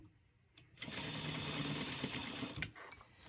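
Sewing machine stitching a fitted fabric face mask with filter pocket, running in a steady continuous whir for over a second and a half after a brief quiet start, then stopping with a few small clicks.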